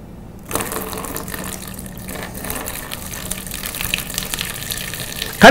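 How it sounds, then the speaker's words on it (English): Water runs steadily down onto a small turbine in a classroom energy demonstration, a constant close splashing rush that starts after a brief quiet opening. "So I'm going to let this water run down onto this turbine and let's see what happens to the turbine."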